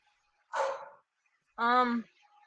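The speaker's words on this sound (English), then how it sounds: "I apologize for the dog that starts barking" A dog barks twice indoors, fairly close, a harsh first bark followed a second later by a longer, more tonal bark, with near silence around them.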